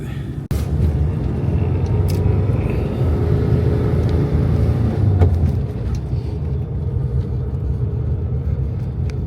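Volkswagen Type 3 Notchback rolling into a workshop, its engine a steady low rumble close by after a sharp knock at the start, holding an even idle-like drone with a few small clanks and no speech.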